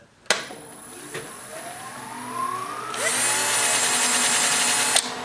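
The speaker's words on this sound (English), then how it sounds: "Try the drill in reverse, Jimmy" A power drill runs in reverse to tighten its chuck in a woodturning workshop: a sharp click, then a motor whine that rises in pitch and settles into a loud, steady high whine before cutting off.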